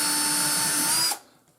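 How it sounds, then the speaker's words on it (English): Power drill whirring steadily at close range while pre-drilling for an O gauge track switch installation, a continuous high-pitched motor whine lasting about a second before stopping abruptly and winding down. "So what I do here is I pre-drill"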